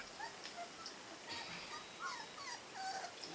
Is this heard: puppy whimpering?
yes